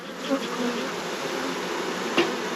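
Honey bees at an opened home hive drone in a dense, continuous buzz, with a few individual bees passing close by.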